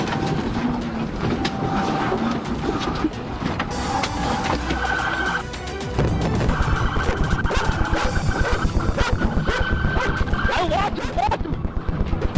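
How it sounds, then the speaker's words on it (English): Police dog barking in a regular, repeated rhythm during a foot pursuit after a disabled vehicle, mixed with a siren and busy street noise, under background chatter. "Did they have the dog out?"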